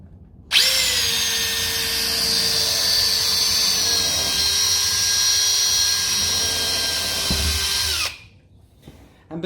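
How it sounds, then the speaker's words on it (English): A power drill bores a pilot hole through a 15mm-thick jig for fitting a door latch, giving one loud, sustained whine of about eight seconds with a steady pitch, close up, that spins down at the end. "that takes our pilot bit through nice and square"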